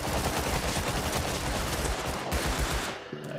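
Sustained gunfire in Rust as players shoot at an approaching group, a continuous rattle of rapid shots and bursts at steady volume that breaks off near the end, no voices heard.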